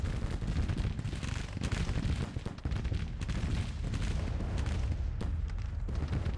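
Gunfire and artillery rumble in a Civil War strategy game set in a spring 1861 Confederate campaign, with dense crackling musketry and heavy booms rolling continuously at loud level.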